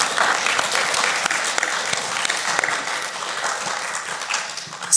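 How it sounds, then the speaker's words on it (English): Audience at a women's wellness and empowerment conference breaking into applause, a dense sustained wash of many hands clapping for several seconds. "give them a round of applause"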